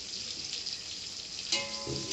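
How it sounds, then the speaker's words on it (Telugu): Chopped onions, about half a kilo, dropped into hot oil with mustard seeds for an eggplant and salt fish curry, producing a steady close sizzle with a louder burst of crackling as they hit the pan. "ఆవాలు వేసుకున్నాక ఉల్లిపాయలు అరకిలో అండి తరిగి పెట్టుకొని ఉన్నానండి ఇప్పుడు వేసుకుంటున్నా"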